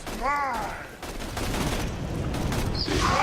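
Gunfire in Borderlands 2 crackles as a rapid, dense burst of shots through most of the short stretch, moderately loud, with a brief voice-like sweep at the start and game effects layered over it.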